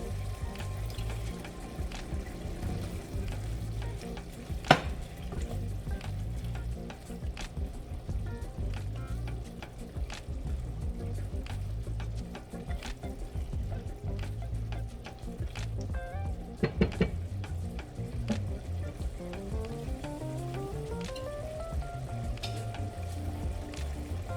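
Steady sizzling and crackling of chicken frying in a pot for jambalaya, with occasional clinks and stirring sounds, fairly quiet and continuous.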